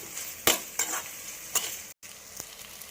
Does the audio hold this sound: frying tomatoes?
yes